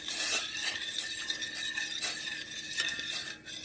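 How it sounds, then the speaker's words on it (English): Pot of sauce for spicy crab house shrimp cooking on a stove over an open flame, giving a continuous close sizzling, hissing rasp with small bubbling crackles and no voices. "You can hear I got that pot going."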